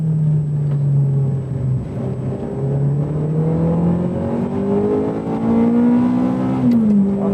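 A 1994 Ferrari F355 sports car accelerates on a track, its engine note climbing steadily in a loud, close, throaty wail before a brief dip near the end.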